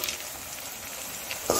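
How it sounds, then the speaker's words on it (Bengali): Potato chips fry in hot oil with a bright, continuous sizzle and crackle, close and steady, with a brief clink near the end. "এরপর উল্টিয়ে পাল্টিয়ে একটু লাল লাল করে ভেজে নেবেন চিপস।"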